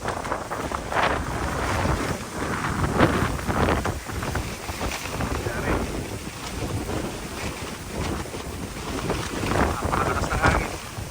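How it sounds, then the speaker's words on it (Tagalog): Strong wind roars steadily against the microphone, buffeting in loud gusts with a low rumble throughout, like exposed open water, during a whirlwind at a hillside farm. "Napakalakas ng hangin."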